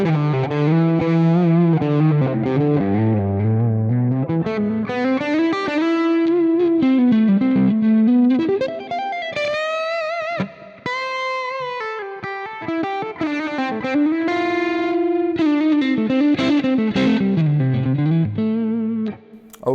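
A Yamaha Pacifica electric guitar plays with a crunchy distorted tone, a continuous melodic line of sustained, bending notes and chords, loud and close, alone with no talking.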